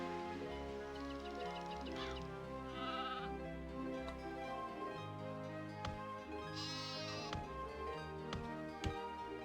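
Repeated sheep bleats ring out at a sheep farm in the strategy game Anno 1602, layered over soft game music and ticking effects, with no talk.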